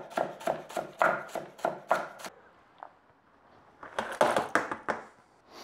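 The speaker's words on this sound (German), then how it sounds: "Und den Rest, den schneide ich mir direkt mit in die Suppe rein." Knife chopping fresh greens on a cutting board for a lentil soup with chorizo, a rapid run of about eight crisp close chops, a short pause with one soft tap, then another quick burst of chops, no voices.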